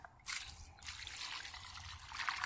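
Warm water is poured onto a newly planted tomato seedling in black-earth soil, a faint, steady trickle splashing into the ground for a couple of seconds.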